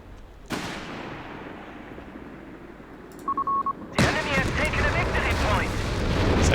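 Gunfire and shell impacts in Company of Heroes 3 as British Grant tanks engage an anti-tank gun against a DAK Tiger, a sharp blast followed by a short beeping tone and a loud sustained rumble of battle noise.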